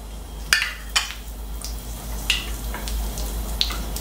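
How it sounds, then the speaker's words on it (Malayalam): Mustard seeds pop in hot oil while cooking Chettinad pepper chicken, giving a few sharp, scattered crackles and spits over a low steady sizzle, close and fairly quiet. "നമ്മുടെ കടുക് പൊട്ടി വരുന്നുണ്ട്."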